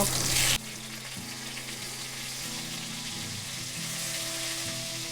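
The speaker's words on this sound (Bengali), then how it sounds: "মাছগুলো ভাজা হয়ে গেছে" Pieces of rohu fish frying in very hot oil, giving a continuous close, even sizzle with no voices.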